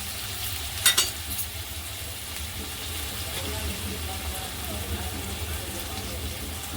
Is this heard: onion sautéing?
yes